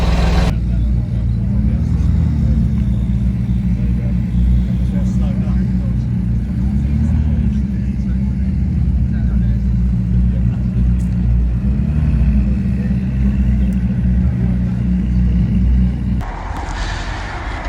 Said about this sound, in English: Right, let's get this car warmed up.